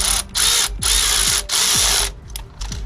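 A plug is threaded into a front or rear differential on an LMTV military truck, with a hand ratchet clicking in four quick bursts separated by short pauses, close and fairly loud, with no talking.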